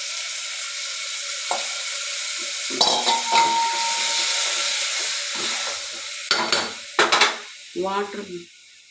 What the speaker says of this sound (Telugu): తర్వాత పప్పు కడిగి పెట్టుకున్నాం కదండి, దీంట్లో వేసుకున్నాము.